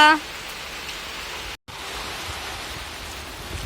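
Steady drizzle on an open farm field, a continuous soft hiss of falling rain with one momentary break and a brief voice right at the start.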